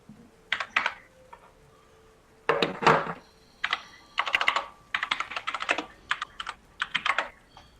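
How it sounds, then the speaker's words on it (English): Computer keyboard typing, close and clear, comes in uneven bursts of rapid clicks separated by short pauses, with no talking over it. "I hear a lot of typing"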